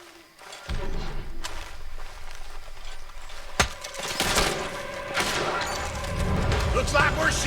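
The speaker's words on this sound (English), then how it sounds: "Looks like we're shooting our way out of here, fellers." Gunfire in Red Dead Redemption 2 during a shootout: bursts of shots and thumping impacts build into a dense, loud volley. A voice speaks briefly over the shooting.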